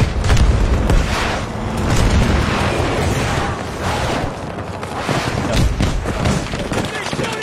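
Gunfire and explosions from the video game Battlefield 2042, with dense booms and crackling shots rolling continuously, loud and close, while voices talk over the combat.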